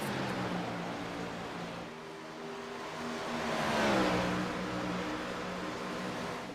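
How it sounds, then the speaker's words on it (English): Race car engine accelerating on the Dover Speedway oval in a racing video game, a steady mid-pitched drone that climbs and swells in a rising rev sweep before settling, heard alone without voices. "DJ Daniel as he starts to turn up the accelerator inside the cockpit of the second car"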